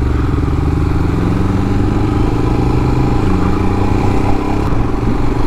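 Royal Enfield Himalayan motorcycle engine running steadily at low revs while the rider works the clutch to find the friction point, a close, continuous mid-pitched thrum with a slight shift near the end.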